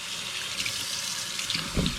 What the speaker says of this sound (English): We just have some very mild bath water, warm. Just gonna rinse her off really good.